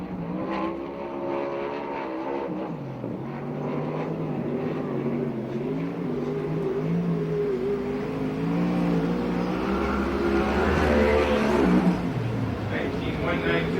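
A USAC/CRA sprint car on a qualifying lap at Perris, its engine a steady, loud drone that swells and fades as it circles the track, under continuous talk from a race announcer.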